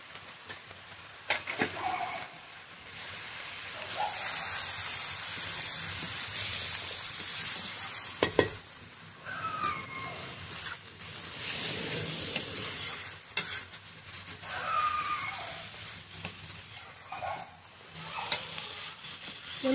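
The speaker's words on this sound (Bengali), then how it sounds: "বন্ধুরা জল জল দেব না, ভাজা ভাজা করবো" Vegetables seasoned with salt and turmeric fry in a pan, giving a loud, continuous sizzle with hissing swells and occasional stirring scrapes.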